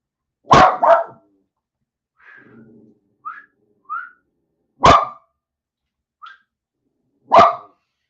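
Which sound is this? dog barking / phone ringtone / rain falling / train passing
dog barking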